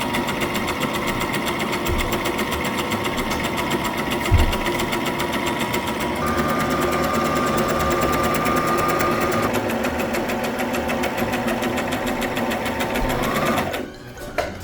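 A sewing machine running steadily as it stitches fabric onto a seam of a Halloween costume suit, a close, continuous mechanical whir that keeps an even pace throughout before stopping near the end.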